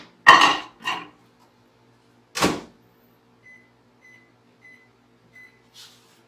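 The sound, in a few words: microwave oven running, melting ingredients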